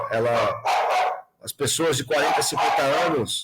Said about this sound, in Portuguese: Desculpa pelo meu cachorro aqui.